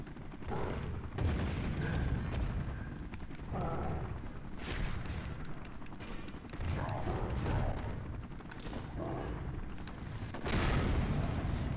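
A tank battle in a GameCube game running on Dolphin emulation on an 8GB Raspberry Pi 4 sends out dense, loud, rumbling explosions and gunfire bursts that come in waves with short lulls, and faint talk mixes in at times.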